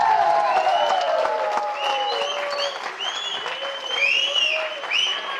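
Strong audience applause at a Tamil film audio and trailer launch as the producer is welcomed onto the stage, sustained clapping from a crowd with music playing loudly over it throughout.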